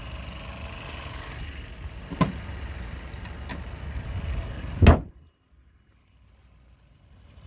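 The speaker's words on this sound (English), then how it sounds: "Let's go ahead and close the hood for you." Hood of a 2016 Chevrolet Cruze with the 1.4 liter four cylinder engine slammed shut outdoors: faint ambient noise and a couple of small taps, then one sharp loud thud followed by near silence.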